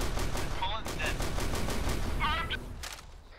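Sustained automatic gunfire in a Warhammer shooter game: dense, rapid bursts of shots layered over chaotic voices and sound effects, easing slightly toward the end.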